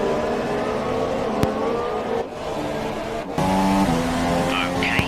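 Formula 1 race cars at the Circuit of the Americas US Grand Prix, including Lewis Hamilton's car and a Force India, engines whining and shifting pitch as they pass, loud and continuous with a louder surge late on.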